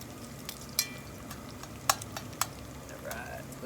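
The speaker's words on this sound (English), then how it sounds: "as you're stirring this stuff, I like to scrape the little bits off the bottom" Spoon stirring bacon in a pot and scraping browned bits off the bottom, a few sharp scrapes over a steady low sizzle, close and fairly quiet.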